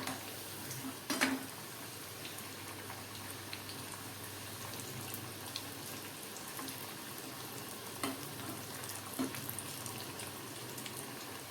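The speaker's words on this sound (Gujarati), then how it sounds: "આ ટુકડાને આપણે હાઈ ફ્લેમ પર તળવાના છે" Purple yam pieces for masala chaat fry in hot oil over a high flame with a constant, even sizzle, broken by a few light clinks of a utensil against the pan.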